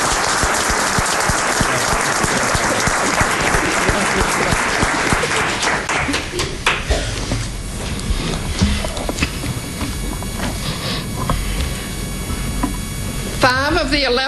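Audience applause welcoming debate panelists at a Jackson mayoral debate, sustained loud clapping from a large room that tapers off into scattered claps and murmurs.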